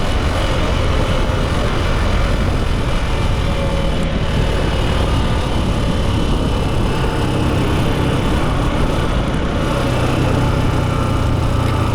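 A motorbike riding down a bumpy road and picking up speed, a loud steady engine drone mixed with heavy wind rush, continuous throughout with no talk.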